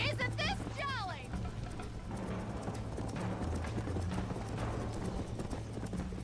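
Horse hooves clip-clop at a steady galloping rhythm in Red Dead Redemption, close and continuous, with people talking and a bright whinny-like call near the start.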